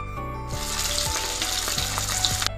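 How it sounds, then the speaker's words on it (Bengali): Pieces of hilsa fish hiss and sputter loudly in hot oil, a dense continuous sizzle with a low hum underneath and no voices. "তেলটা গরম হয়ে গেছে এক এক করে মাছগুলো তেলে ছেড়ে দিলাম"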